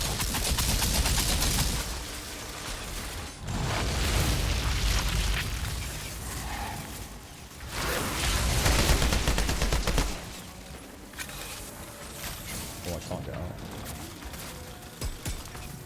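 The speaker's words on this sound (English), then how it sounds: "Sounded like a weird sort of cluster bomb thing, didn't it?" Repeated booming blasts like a cluster bomb in the game Valheim, several loud rumbling bursts of explosions separated by brief quieter gaps, followed by scattered smaller pops.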